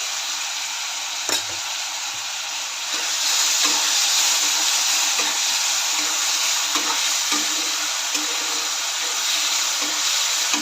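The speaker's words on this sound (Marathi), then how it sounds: "कांदा टोमॅटो तांबूस होईपर्यंत भाजून घेऊया" Onion and tomato frying with a pinch of salt in a pan, giving a steady, close hiss and sizzle with occasional stirring clicks. No one talks.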